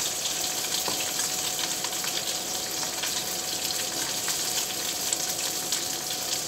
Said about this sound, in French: Donc le poisson, on le laisse cuire.